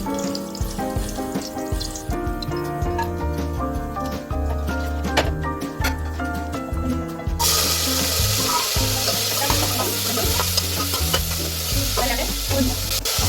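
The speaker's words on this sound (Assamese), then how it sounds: "ঘিখিনি ভালদৰে গৰম হ'লে ইয়াতে আমি দুটা গৰম মছলাখিনি আৰু তেজপাত দুটা দি দিম" Whole garam masala and two bay leaves frying in hot ghee, a steady sizzle under busy clatter and stirring, with a louder, brighter burst of frying partway through and no talk.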